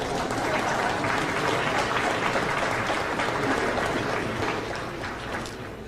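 An audience applauds a comedian at the end of his act, a dense, steady clapping that holds strong throughout and eases slightly near the end, with no voices on top.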